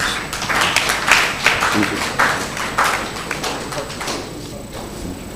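Audience at a soil science annual conference applauding a presenter, rhythmic clapping that fades out, with a brief voice speaking over it.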